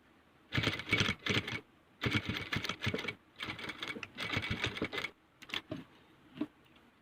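Sewing machine stitching a cloth face mask, running in several bursts of rapid mechanical chatter separated by short pauses, with a few fainter clicks near the end and no talking.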